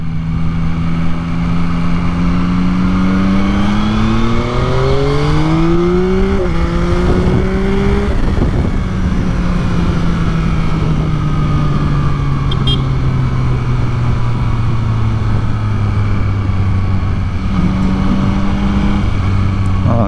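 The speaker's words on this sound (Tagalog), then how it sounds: "Tahimik lang ang motor natin ngayon dahil stock exhaust po." Yamaha MT-09 naked motorcycle with its stock exhaust, engine revving repeatedly close by, pitch climbing and falling through several rising sweeps before settling back to a lower steady drone, loud throughout with no talking.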